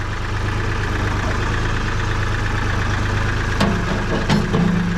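A tractor engine idles close by with a steady, loud low throb and even mechanical chug, a couple of brief metallic clanks breaking in near the end.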